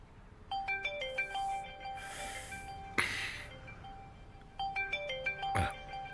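A phone plays a bright repeating melodic ringtone while an outgoing call connects, in short tonal bursts with gaps, along with breathy gasps and snorting sounds close by.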